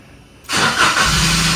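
A car engine starts through a keyless system: quiet until a sudden loud crank catches, then the motor settles into a steady, close idle.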